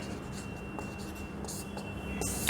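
Marker or chalk writing on a board during an accountancy lesson, faint scratchy strokes over steady room hiss, with a louder squeak near the end.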